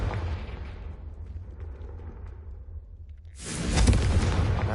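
A Confringo blasting curse erupts in Hogwarts Legacy with a sudden loud, broad explosive burst after a low rumbling lull, ringing out fully and alone.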